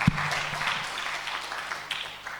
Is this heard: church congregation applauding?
yes